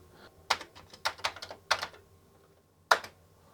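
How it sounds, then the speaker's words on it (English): Keys tapped on a Commodore 64 keyboard during a restoration, a few quick clustered clicks then a pause and one more isolated press, close and clear over a quiet background. "See if the keyboard works."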